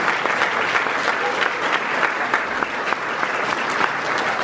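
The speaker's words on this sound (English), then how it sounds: "That's one more round of applause for these guys." An audience claps steadily for a high school jazz band at a school jazz night, a dense, even wash of applause with no voices standing out.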